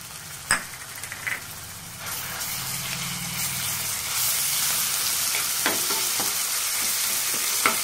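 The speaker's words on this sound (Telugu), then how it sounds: "అల్లం వెల్లుల్లి పేస్టు కొంచెము దూరగా వేయించుకోవాలి." Ginger garlic paste frying with onions in a pan for a tamarind-leaf mutton curry, a steady loud sizzle with a few sharp stirring clatters early on, the frying growing brighter and louder midway, no talking.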